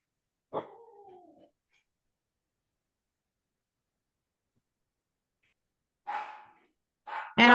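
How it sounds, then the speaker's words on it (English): Dogs bark and growl in short, separate outbursts at a distance, with long silence between them. "And I have dogs barking,"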